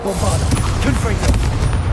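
Bombarda and Confringo spell blasts from Hogwarts Legacy erupt in quick succession, dense booming bursts with a thick low rumble filling the whole stretch, continuous and loud with brief sharper cracks, no spoken voice over them.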